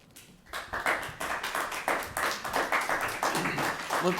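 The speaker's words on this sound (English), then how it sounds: "Let's hold our applause between comments so we can move faster, please." Audience applause at a town planning board meeting: a burst of rapid, fairly close handclaps that starts abruptly and keeps a steady, dense rhythm without voices over it.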